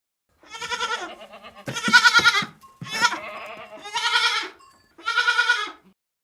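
A goat bleats five times in a row on a farm, loud and close, each bleat a wavering, nasal cry with short pauses between.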